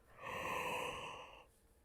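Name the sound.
yawn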